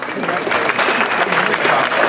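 Audience applause at the 48th Annual Heart Ball gala, a dense, steady round of clapping filling the room from start to finish.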